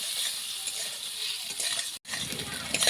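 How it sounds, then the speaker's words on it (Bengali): Tomato frying with salt and turmeric in a pan for a soybean dish: a steady, close sizzle runs almost throughout, with stirring noises and one brief break near the end. "টমেটোর সাথে দেব স্বাদ মতন লবণ হলুদ দিয়ে লাল করে এখন ভেজে নেব"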